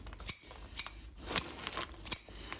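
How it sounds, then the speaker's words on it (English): Scissors snip at the roots of a black pine bonsai, giving four or five sharp, close metallic clicks spaced unevenly over a quiet background. "Get some scissors. Just trim that off for now."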